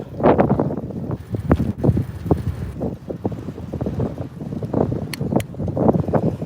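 Wind buffets the microphone while a cyclist rides into a headwind on a cold day, a continuous gusty rumble that surges and dips throughout, loud and close with no talk.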